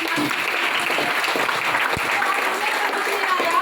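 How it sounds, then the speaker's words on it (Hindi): Loud, dense applause from a crowd at a DXN product meeting, a continuous, close, energetic clatter of many hands that never lets up. "आप सभी के लिए जोरदार तालियां"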